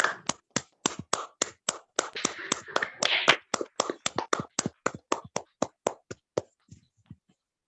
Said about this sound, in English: let's have an encouraging and enthusiastic start with a thunderous round of applause